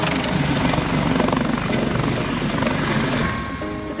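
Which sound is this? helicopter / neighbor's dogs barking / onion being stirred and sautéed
helicopter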